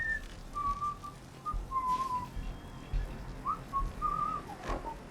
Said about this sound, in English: How are you whistling, Codsworth?